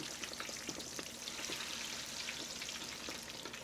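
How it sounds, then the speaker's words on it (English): Unfloured chicken wings browning in hot oil, a steady close crackle and sizzle with scattered pops throughout, fairly quiet and with no voices. "fry my wings"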